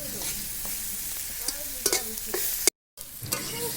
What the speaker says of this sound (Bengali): তো আমি বেগুন ভাজাগুলো অল্প তেলেই ভাজতেছি